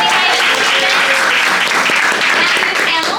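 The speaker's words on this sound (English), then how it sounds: "So please give a round of applause for Laurice Marier" Applause from an audience at a theme park Q&A panel, dense and continuous clapping that fills the room at a loud, even level throughout.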